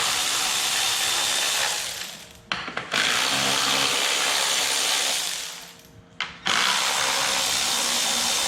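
A power ratchet backs out 10mm bolts from a Toyota Camry radiator fan shroud. It whirs loudly and steadily up close, with two short breaks between long runs.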